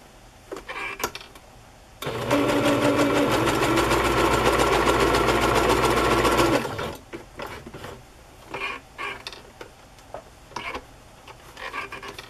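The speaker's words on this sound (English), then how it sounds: "I'm going to sew that together right now." A sewing machine stitches fabric and lace onto a tag in one loud burst of about four and a half seconds, with quieter clicks and handling noises before and after.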